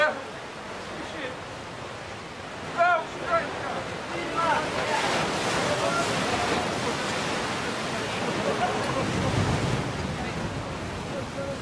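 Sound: ocean waves and surf

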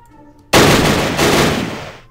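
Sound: gunfire in Battle Academy WW2 video game

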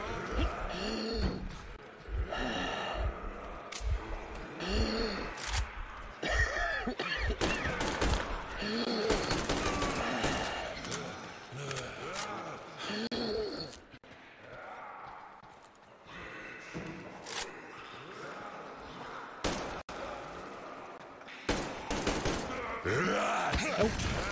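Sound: shotgun fire in the video game Metro Exodus

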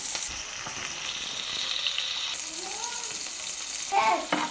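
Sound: fish frying in oil with garlic

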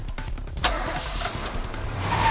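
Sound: van speeding off with loud engine, video game 428

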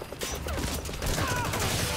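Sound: rocket launcher fired at player in Metal Gear Solid 5 video game

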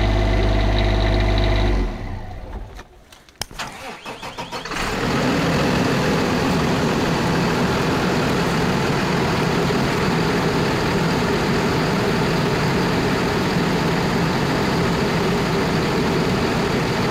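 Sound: diesel engine of a 2015 Newmar Ventana motorhome starting and idling

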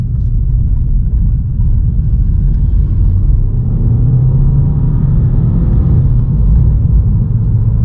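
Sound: Volkswagen Scirocco engine revving while driving

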